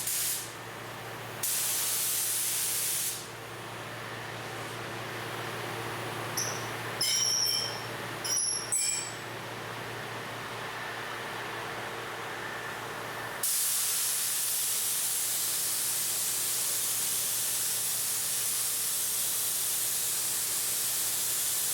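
A spray gun applies EkoFill coating to a surface, with short hissing bursts early on, a quieter stretch with a few clicks and knocks, then a long continuous close spray hiss to the end.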